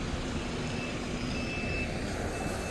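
Bus reversing at a bus stand in Mangaluru at night, a steady series of high electronic reversing beeps over a low idling engine drone and ambient station noise.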